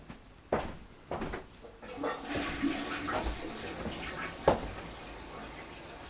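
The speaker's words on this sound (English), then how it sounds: "Okay, let's try flushing the toilet." Toilet flushing in a village home, a rushing water wash that swells and continues for several seconds, with a few knocks and clatters beforehand, fairly quiet and without speech.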